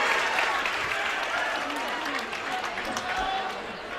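A loud crowd roars at a high school basketball game in a packed gym, with a dense, sustained wash of cheering and clapping throughout.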